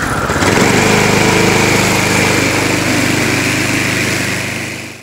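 A Craftsman 22-inch walk-behind trimmer engine runs loud and close at low RPM with a rough, uneven idle, its pulsing throb holding steady before fading slightly at the end.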